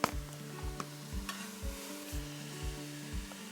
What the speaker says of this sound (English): The veggies are not sauteed completely the way I want them.